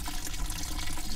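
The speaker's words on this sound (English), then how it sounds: "Don't worry about the dripping. Those are just" Steady water dripping or trickling, like a running tap, continuous and close for about a second, with no voices.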